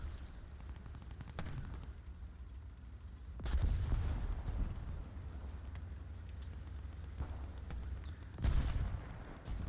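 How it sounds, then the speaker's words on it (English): A Chi-Ha Short Gun tank in the War Thunder video game firing high explosive rounds: two heavy booming cannon shots several seconds apart over a constant low engine rumble, with scattered distant gunfire in between. "Sadly, it is only able to fire high explosive rounds"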